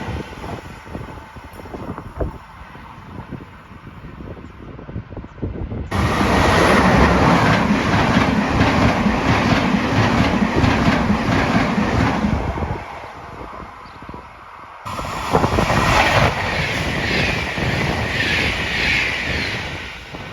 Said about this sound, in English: you often see passenger trains passing by at a steady, brisk pace